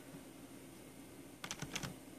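Typing on a computer keyboard during a gaming session, a brief burst of quick close clicks after a quiet stretch.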